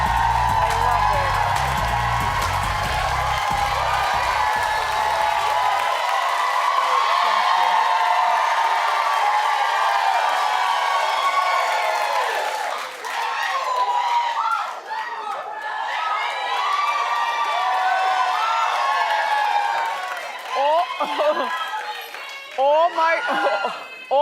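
A studio audience on a daytime talk show, The Wendy Williams Show, roars and cheers loudly and steadily, with excited whoops and shouted chanting for Wendy rising over the crowd.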